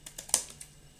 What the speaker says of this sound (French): et venir découper l'excédent